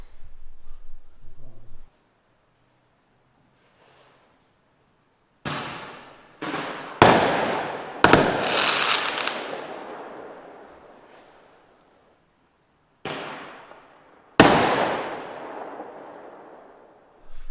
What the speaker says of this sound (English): I bet we get a firework thrown up at us